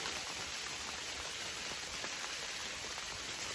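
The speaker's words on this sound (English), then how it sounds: "you can probably hear that it's still snowing and raining out there" Steady rain mixed with snow patters on a tent outside, a dense continuous hiss of drops with no voices.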